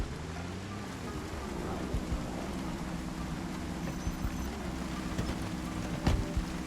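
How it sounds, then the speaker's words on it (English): Rain falling in the zombie survival video game Project Zomboid, a steady broadband hiss that holds at an even level throughout, with a few faint thumps and clicks from in-game action underneath. "Now it's raining again."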